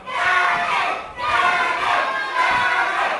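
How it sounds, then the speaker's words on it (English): A crowd at a live WrestleForce wrestling show in Shoeburyness chants and cheers loudly in three rising waves, urging on Danny Haines, with young voices prominent in the shouting. "the crowd are trying with all their might to will Danny Haines on"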